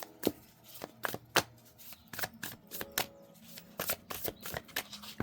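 A deck of tarot cards is shuffled nearby in short bursts of crisp riffles and sharp slaps, spaced irregularly across five seconds, with no speech.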